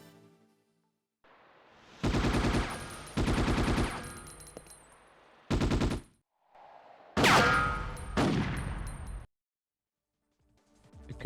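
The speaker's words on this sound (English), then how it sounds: "The sounds of the guns and environment are fantastic as well" Gunfire from the Ghost in the Shell PS2 game, loud rapid automatic bursts in several separate volleys with metallic clanks and ringing echoes, gaps of quiet between them, no talking.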